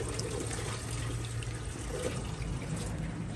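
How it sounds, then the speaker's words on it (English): Water draining out of a small turtle container, a steady close trickling and splashing wash that runs without pause. "Let's open this up. Let that water come out."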